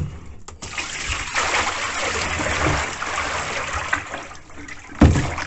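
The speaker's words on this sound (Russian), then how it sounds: "Сейчас воду сливаем." Water splashes and pours steadily from a container after soaking a whole carp, a broad rushing spill with a brief louder splash near the end.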